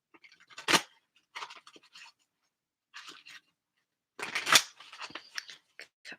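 Tarot cards from the Dreaming Way Tarot deck being shuffled in a couple of short bursts, close and fairly crisp riffling with quiet gaps between, no talking.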